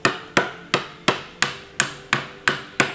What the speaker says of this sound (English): You're going to hammer it down?